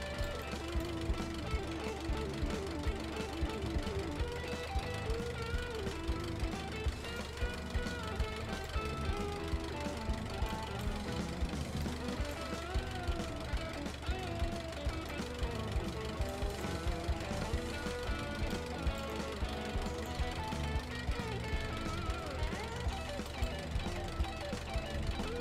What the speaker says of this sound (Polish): Tylko jak tu się włącza ten młot pneumatyczny?